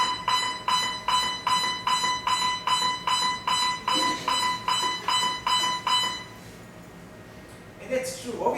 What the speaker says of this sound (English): Now that warning system is both a visual signal and a beep sound.